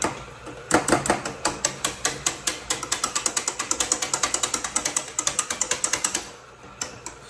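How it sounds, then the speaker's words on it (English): A whisk rattles quickly and steadily against a pan while flour is beaten into turkey drippings for a roux, giving a fast, regular run of close metallic clicks that stops near the end. "Stir that in there. All a roux. Sorry if that's loud."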